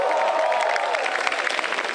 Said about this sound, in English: Give it up for the White Sudanis.